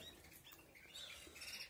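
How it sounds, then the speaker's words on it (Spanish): Brief soft flurry of wings flapping and small thumps as caged birds flutter about, faint and close, with a light squeak. "Están los pájaros más que reboteando."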